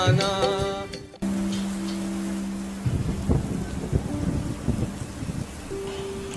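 Thunder and rain for a staged devotional drama, with a rolling rumble and steady downpour under sustained music tones, fairly loud throughout.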